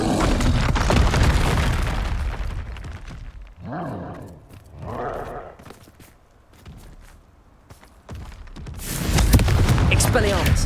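Confringo fire spells explode in a Hogwarts Legacy fight, heavy booming blasts at the start and again at the end. Between them, quieter swishing effects and a lull.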